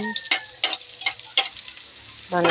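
Garlic sizzles in a hot pan as a spoon stirs it, with a few sharp scraping clatters against the metal over a steady frying crackle; near and fairly loud, no voices.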